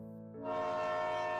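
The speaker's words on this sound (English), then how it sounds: "the faint sound of a whistle" A steam train whistle sounds in an animated bedtime story: one sustained, tonal blast that swells in strength and holds steady, with no speech.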